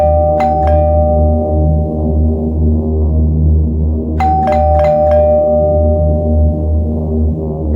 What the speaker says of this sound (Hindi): मैंने कई बार डोरबेल बजाई